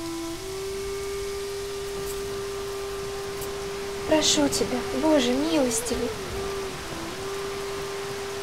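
Steady rain falls as a constant soft hiss, with a low hum beneath it and a voice speaking in a sung, prayer-like tone partway through.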